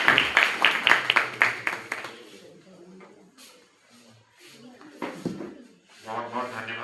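Brief applause at a school birthday celebration, a burst of rhythmic claps at the start that fades within two seconds, followed by a quieter room with speech.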